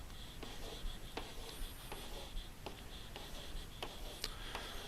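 A pen or pencil writing a number by hand on paper, soft scratchy strokes repeating over a faint steady background hiss, close but quiet.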